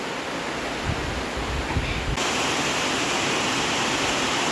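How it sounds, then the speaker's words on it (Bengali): Heavy rain pours down in a dense, steady roar with no letup, loud and close, with a few low dull thumps in the first half. "এখন ভীষণভাবে বৃষ্টি হচ্ছে।"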